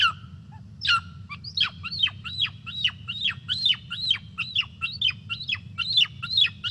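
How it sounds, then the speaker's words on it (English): A wedge-tailed eagle's call plays back as a rapid series of about fifteen thin, sharply descending whistled yelps in a steady rhythm, fairly loud over a constant low hum. "you might recognise this to be the call of a wedge-tailed eagle"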